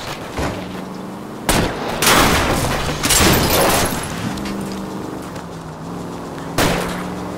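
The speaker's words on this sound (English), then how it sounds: "Trying to shoot out his tires." Gunfire in the L.A. Noire video game aimed at a fleeing car's tires: several sharp, loud shots spaced across the clip, ringing over a steady engine drone, with no talking.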